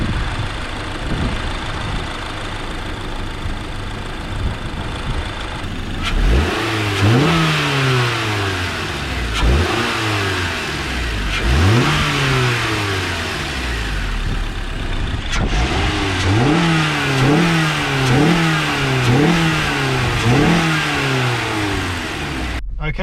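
A Honda Accord with a K24 engine and a panel air filter revs and accelerates hard in an empty industrial area. Loud repeated engine pulls climb and drop through the gears, with no talking.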